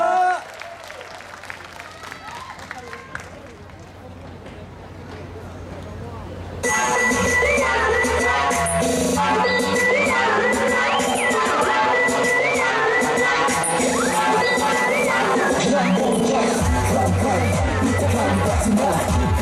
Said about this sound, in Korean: 더 박수 크게 쳐주시고 환호 크게 질러주세요